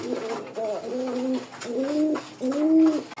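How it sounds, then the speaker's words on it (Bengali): A pair of sky-blue Rajgolla pigeons coos close by in a run of five or six drawn-out, wavering calls with short breaks between them. "এই জায়গায় এক জোড়া কবুতর আছে আপনার আকাশি রাজগোল্লা।"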